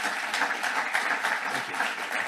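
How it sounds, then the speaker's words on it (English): An audience at a White House safety innovation summit claps for a panel, a short, steady burst of moderately loud applause with no voices over it. "So please, a round of applause for this panel."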